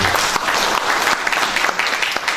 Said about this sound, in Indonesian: Tepuk tangan bagi yang warga NU.